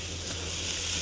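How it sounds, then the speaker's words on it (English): Bacon tossed into a pan of sautéed vegetables sizzles in a loud, steady hiss while being stirred, close up and without voices. "as soon as it's done, you toss the bacon in there and stir it up."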